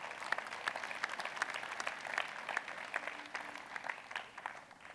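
Audience at a show in an expo hall gives a last round of applause for a music group, fairly soft and distant clapping with a loose rhythmic pulse, gradually thinning.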